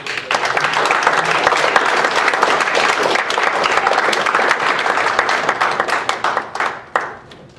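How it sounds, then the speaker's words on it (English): A student government senate meeting audience gives a loud, dense round of applause, sustained clapping from many people that holds steady, then thins into scattered claps and fades. "think we should give her a round of applause for the 10 pages of notes she took."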